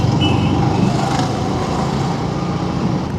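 A tempo, a small truck, passes on a road in a steady loud engine and tyre rumble, with a brief higher tone near the start and continuous traffic noise throughout.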